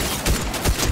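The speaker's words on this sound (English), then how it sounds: "I'm seeing some shots pop off." Short burst of gunfire in the Fortnite battle royale game, two or three sharp shots in quick succession, fairly loud and close with no talking.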